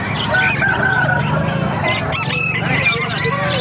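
Several roosters crow loudly and close by, overlapping with clucking hens amid a busy poultry yard at a market in Calumpit, Philippines.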